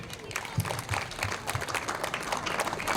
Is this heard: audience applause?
yes